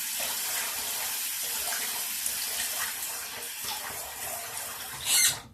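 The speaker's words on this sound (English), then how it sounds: "we're gonna splash your face one more time" Running water at a bathroom sink during post-shave cleanup, a steady close hiss of flow and splashing with a brief louder splash near the end.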